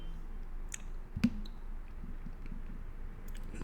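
A single sharp computer mouse click while working in a LibreOffice Calc spreadsheet, faint and close, with quiet room noise before and after.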